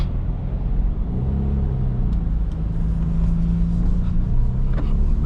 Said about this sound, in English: Bit of a bumpy road there.